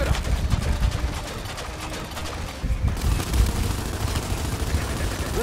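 Rapid bursts of gunfire from Gears 5 campaign combat, dense overlapping shots and rattling fire that runs continuously, with a brief dip in intensity before resuming loud and busy.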